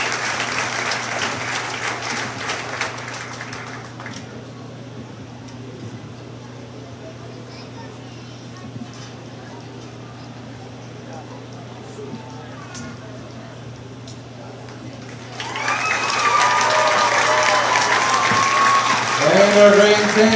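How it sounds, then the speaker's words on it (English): An audience at a county steer show applauds the kids, loud clapping that fades to a quieter arena hum over a steady low drone, then swells again into a second strong round of applause near the end. "Please give these kids a nice big round of applause."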